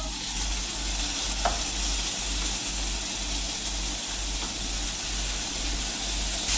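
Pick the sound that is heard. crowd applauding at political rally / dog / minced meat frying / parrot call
minced meat frying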